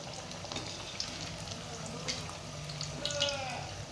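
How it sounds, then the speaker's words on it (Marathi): Corn cutlets coated in sesame seeds fry in hot oil, giving a steady, close, moderate bubbling sizzle with small crackles and pops throughout, no voices. "दोन्ही बाजूनी आपल्याला व्यवस्थित आपले कटलेट्स तळून घ्यायचे"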